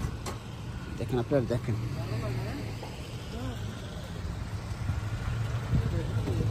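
A vehicle engine idles steadily and close by, a low continuous hum running throughout while someone talks over it.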